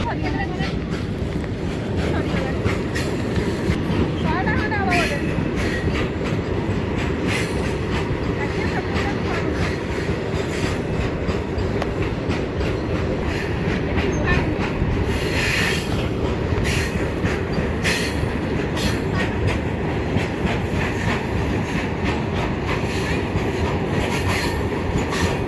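A train rolls along a railway in Odisha with a sustained loud rumble and steady rhythmic clickety-clack of wheels over rail joints, heard close by for the whole stretch.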